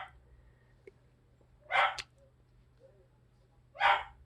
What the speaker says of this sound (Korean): 갑자기 개 짖는 소리 나네.